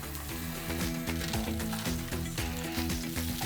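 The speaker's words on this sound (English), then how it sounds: "you want to leave those guys sizzling in there until we've got the crispy crust" Skin-side pieces sizzle steadily in hot oil in a pan, a dense continuous crackle and spatter close to the listener with no talk.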